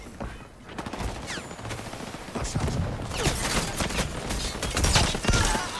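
Gunfire in the video game Highguard, bursts of rapid shots and sharp cracks crowding together over several seconds, loud and dense, with game ambience and a voice talking over it.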